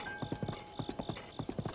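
Horse hooves clip-clop in Breath of the Wild, a steady galloping rhythm of paired thuds over a faint background tone, close and clear with no talk.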